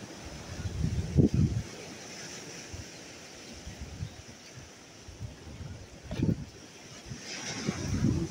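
Sea wind and waves wash over a rocky, moss-covered shore: a continuous soft roar of surf and wind, with a few stronger swells breaking nearby and no talking.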